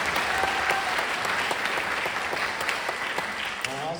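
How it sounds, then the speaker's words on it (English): Sustained, steady applause from an audience at a district honor band concert, following a student jazz ensemble's performance, with a brief whistle early on and faint voices mixed into the clapping. "another round of applause for them"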